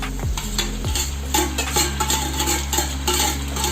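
Chopped ginger, garlic, onion, capsicum and carrot tossed into a hot pan for paneer chilli, a loud steady sizzle with scraping spoon strokes and clinks of stirring, no voice.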